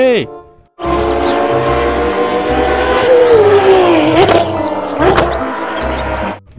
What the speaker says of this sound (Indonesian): Ada mobil VW.